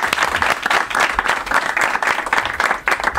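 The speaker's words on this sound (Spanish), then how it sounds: "muy, muy agradecido por ese aplauso" Studio audience applause on a Spanish comedy talk show, loud and close, a full burst of clapping swelling and dipping slightly in waves for a few seconds with no one speaking over it.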